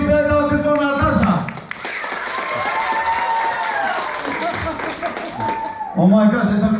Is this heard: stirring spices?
no